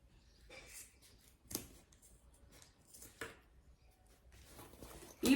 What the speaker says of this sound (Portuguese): vou cortar aqui essa bordinha da sobra do zíper, dos dois lados